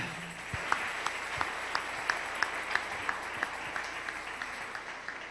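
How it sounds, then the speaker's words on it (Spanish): Applause for the King during a church service, a steady wash of many hands clapping at moderate volume, with a few sharper individual claps standing out at regular intervals. "Dele un aplauso al Rey."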